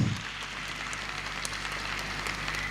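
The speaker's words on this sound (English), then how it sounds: "a warm round of applause." Steady applause from a crowd, a dense continuous patter of clapping that holds at an even level throughout.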